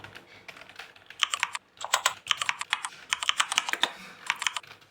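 Fingers type on a computer keyboard while filling in invoice details in a spreadsheet, producing close, crisp bursts of rapid key clicks separated by short pauses.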